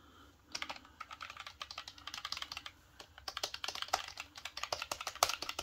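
Keys clack steadily on a wireless keyboard from a budget keyboard-and-mouse combo, a quick close rhythm of light clicks with brief pauses, alone with no talk.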